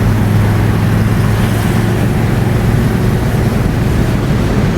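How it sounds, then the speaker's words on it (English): First-generation Chevrolet Monte Carlo with a big-block V8 driving down the road, its deep, steady exhaust drone and road rumble continuous and loud throughout, with no voices. "You get that deep baritone from the exhaust pipes that only a Chevy big block is going to make."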